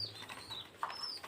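A pet pigeon coos once, faint and close, in a quiet loft with soft chirps and rustling around it.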